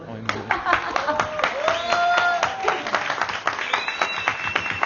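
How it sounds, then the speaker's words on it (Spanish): Audience applause at a photography keynote, sustained clapping from a crowd across the whole clip, with a voice carrying over it. "saca un aplauso"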